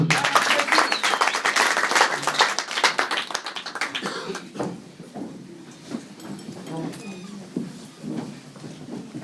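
A church congregation claps loudly and steadily to acclaim the Lord, dense applause filling the first few seconds before thinning into scattered claps and murmuring voices.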